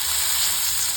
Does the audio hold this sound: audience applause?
no